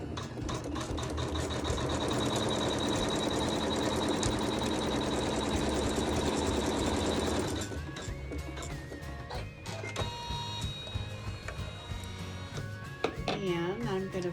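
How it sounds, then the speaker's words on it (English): A sewing machine stitches a fabric seam for a quilt appliqué, a fast dense mechanical chatter running steadily for about seven seconds before stopping, followed by softer handling sounds and faint talk. "I'm going to sew the seam."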